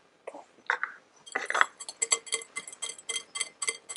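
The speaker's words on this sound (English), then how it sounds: "start whisking that together" A whisk beating egg yolk with Dijon mustard in a bowl, first a few scattered clinks, then a steady quick rhythm of light metallic taps against the bowl, close and fairly quiet.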